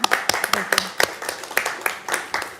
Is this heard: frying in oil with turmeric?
no